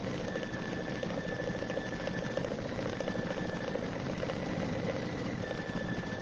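A sewing machine revved up and running fast, a steady mechanical whir with a continuous whine and rapid rattling stitch pulses, even in loudness throughout and without talk.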